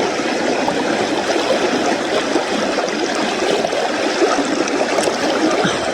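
A rural mountain stream flowing steadily where people bathe, a continuous close rushing and gurgling of water with no clear voices over it.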